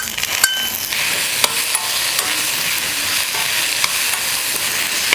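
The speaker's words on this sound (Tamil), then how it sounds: "இப்போ இதெல்லாம் சேர்த்து வதக்கும் பொழுது" Onions and tomatoes sizzle steadily in a hot pan while a spoon stirs and scrapes now and then, close up with no talking.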